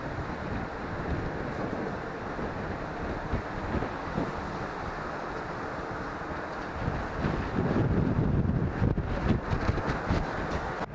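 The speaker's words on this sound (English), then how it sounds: "Quite a wind blowing right now though." Wind gusting across the deck of a midnight ferry crossing from Barcelona to Ibiza, a steady broad rush with low rumbling buffets on the microphone that swell louder toward the end, no talking.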